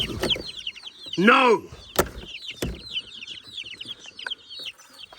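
Young chickens at an off-grid homestead cheep and cluck in quick, overlapping high peeps, close by, with a few sharp knocks and a person speaking briefly.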